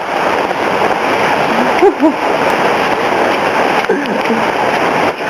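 Monsoon rainwater rushes and splashes steadily down a usually dry alley in Seoul, close by, a loud continuous flow, with brief voices breaking through a couple of times.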